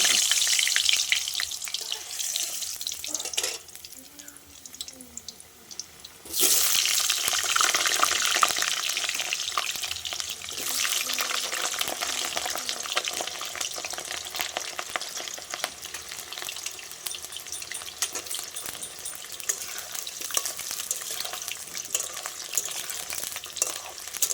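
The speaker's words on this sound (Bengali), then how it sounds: "আমি আলুগুলো কেটে রেখেছি আলুগুলো ভেজে নেবো" Cut potatoes frying in oil over a wood-fired clay stove give a loud, continuous crackling sizzle that dips briefly, then surges back and holds steady.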